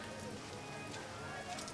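Rain falls steadily at Walt Disney World, a soft continuous patter on surfaces heard close and fairly faint, with no other distinct sounds.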